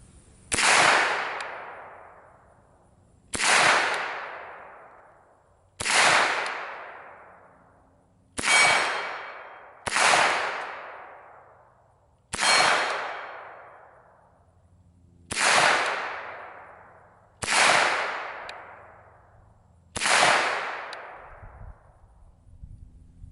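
A Calico Liberty pistol fires nine loud, sharp shots, each roughly two to three seconds apart, every crack trailing off in a long ringing echo.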